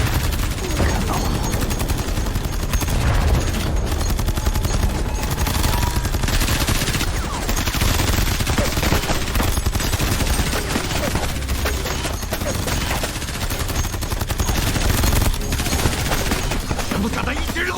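Heavy gunfire from a battle on a ship at sea at Panhua Reef, sustained loud volleys and machine-gun bursts running continuously throughout, with some shouting mixed in.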